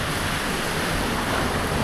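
Steady sea surf rolls below a coastal spot in December, a continuous broad wash of waves with some wind rumble on the microphone and no voices.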